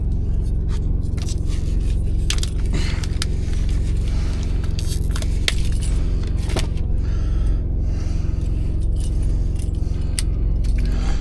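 Car keys jangle and scrape as they are used to tear open a package inside a semi truck cab, bright metallic clinks repeating over a steady low engine hum.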